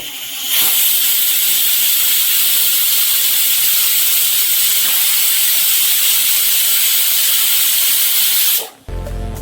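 Pressure cooker loudly hissing as it releases steam while cooking ghee rice, a sharp continuous jet of noise that starts abruptly and cuts off near the end.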